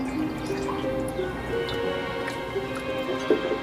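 Water driven by gravity runs through a pipe into a vessel in a demonstration of air compression, making a steady trickling, gurgling flow with small drips and ticks throughout.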